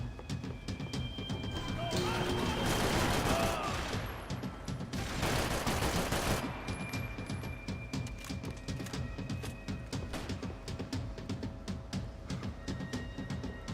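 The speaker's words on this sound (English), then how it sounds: "Someone's shooting" Gunfire in the video game Max Payne 3, rapid bursts of shots and sustained automatic fire, loudest in two dense stretches near the start, then trailing into sparser cracks.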